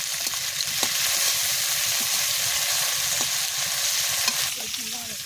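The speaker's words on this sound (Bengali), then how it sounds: "মাছের তেলে মাছ ভাজা, জাপানি পুঁটি এই মাছের তেলে মাছ ভাজা" Japanese puti fish fry in fish oil with a bright, constant sizzle, close and loud, punctuated by sharp pops and stirring scrapes.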